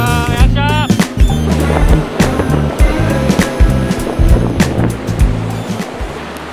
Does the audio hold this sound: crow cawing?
no